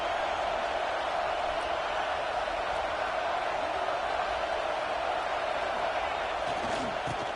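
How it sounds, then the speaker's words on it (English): Steady, dense roar of a packed stadium crowd in the College Football 26 video game, a continuous wash of noise with no breaks. "listen to this crowd noise. This stadium is vibrating."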